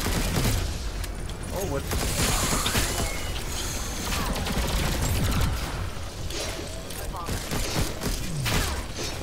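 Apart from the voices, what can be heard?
turret gunfire in video game Alienation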